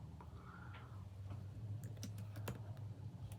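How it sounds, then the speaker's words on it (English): Typing on a computer keyboard: a quiet run of light, irregular key clicks that becomes more distinct in the second half, heard close against a low steady hum with no speech. "And so I'm typing in"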